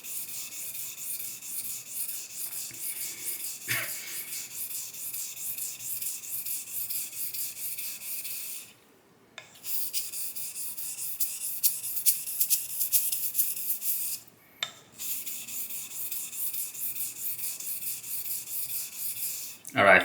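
A Focus Frameback straight razor is honed on a Shapton Pro 1.5k stone, giving steady, close rasping strokes back and forth, with two brief pauses between passes.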